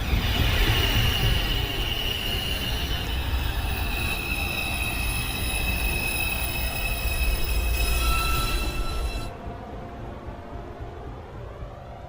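An R142A 2 train on the New York City subway comes into a station, its wheels squealing in high sustained tones over a rumbling roll that softens as it slows.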